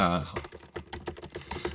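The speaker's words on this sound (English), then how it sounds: "If I'm doing some stuff like this, say I'm typing" Rapid, close clicking of keys on a computer keyboard, a steady patter of keystrokes recorded on a boom microphone, with a brief voice at the very start.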